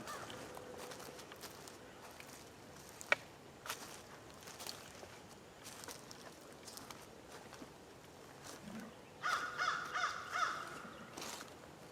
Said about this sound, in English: This one's a crow.